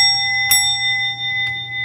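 A small gold church bell kept at the front of a church is struck, ringing out with a bright metallic clang that leaves a long, steady sustained tone, then is tapped lightly again near the end.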